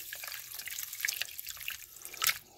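A cup of water splashes into a crock pot holding rinsed pot roast meat, heard as close, irregular trickles and drips with a brief brighter splash near the end.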